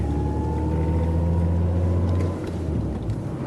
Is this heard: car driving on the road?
yes